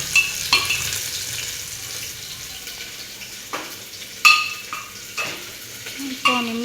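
Onions sizzling in a hot pan, a steady crackling hiss broken by several sharp scrapes and clinks of a utensil stirring against the metal, close by with no talking.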